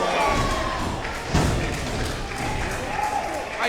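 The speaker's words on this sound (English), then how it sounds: "Oh, why would you chop Titus?" Chop strike to a wrestler's chest during an independent wrestling match, one sharp smack rising over a constant crowd roar, with commentators talking over it.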